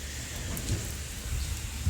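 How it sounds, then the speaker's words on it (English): Steady rain falls outdoors beside a muddy koi pond, a continuous broadband hiss with low rumbling underneath, close and fairly loud, with no voices. "finally seems to be slowing down with the old rain"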